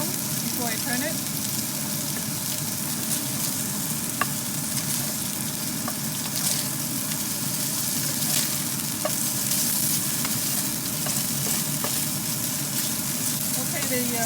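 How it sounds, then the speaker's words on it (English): Sliced pork frying in a pan with ginger and garlic until the side browns, giving a loud, dense, continuous sizzle up close with scattered small pops and a few faint clinks. "Now I'm going to add in the pork. We're going to cook until the side is brown before I turn it."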